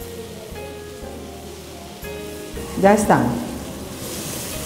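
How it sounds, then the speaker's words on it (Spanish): Vegetables and mushrooms hit hot oil, bursting into a loud sizzle for a second or two before settling into a softer hiss, with a voice talking briefly over the cooking. "Le voy a echar el aceite y ya. Todos son salteados en aceite"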